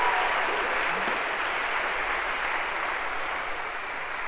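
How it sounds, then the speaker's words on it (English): A lecture-hall audience at an introductory computer science class applauds steadily for a student, a dense sustained clapping that fills the whole stretch and eases only slightly toward the end. "So a round of applause for Josh,"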